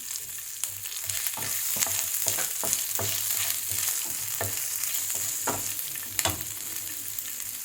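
Steady sizzling of ginger and green chili frying in oil, with repeated scraping taps of a spatula stirring the pan, close and continuous.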